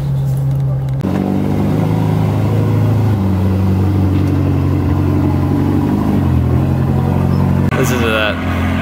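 Ferrari California T engine idling and revving with exhaust valves open, a loud close deep burble that rises after a second and holds steady, with a brief spike near the end.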